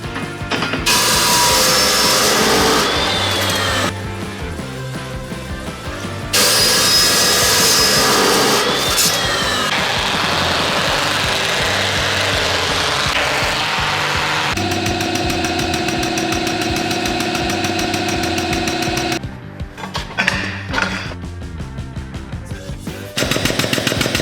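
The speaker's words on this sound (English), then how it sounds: "I'm gonna bend up another set of tubes using the exact same recipe." A tube bender works steel tubes for a truck hoop, loud mechanical whirring and ratcheting clatter in distinct stages, with a steady tonal drive hum mid-way and sharp clunks near the end.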